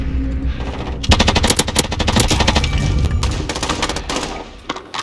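Rapid automatic fire from the Bruen MK9 in Call of Duty Warzone, a loud, dense burst of gunshots that starts after a brief quiet moment and keeps rattling steadily, with a few separate shots near the end.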